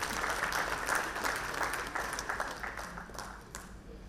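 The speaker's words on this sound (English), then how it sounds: "Let's give a round of applause and welcome Mr. R." A crowd applauds at a manufacturing excellence award ceremony for energy efficiency and conservation, a dense, steady wash of clapping lasting about four seconds that thins slightly at the end.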